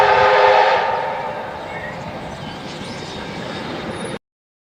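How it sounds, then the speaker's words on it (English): A steam train rumbles past with a steady mechanical roar and a brief whistle tone early on, the noise slowly easing as it moves away before cutting off. "Oh, sounds like that steam train's coming back"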